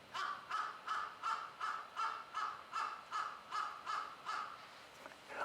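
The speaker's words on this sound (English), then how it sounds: "The crows are waiting to grab one." About ten rhythmic, evenly spaced caws from crows outdoors in Asakusa, Tokyo, sound dulled and distant through a closed door, fading out near the end.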